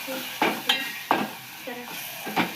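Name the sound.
stirring methi bhaji with flour in a frying pan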